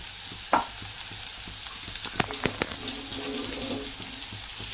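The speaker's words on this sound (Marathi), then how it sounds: "आता चांगलं परतून घ्यायचं आहे. कांद्यामध्ये चांगलं मिरची वगैरे परतून घ्यायची" Onion is sautéed with crushed chilli, garlic and salt, giving a soft sizzle under a few sharp spatula taps and scrapes, with a faint watery trickle partway through.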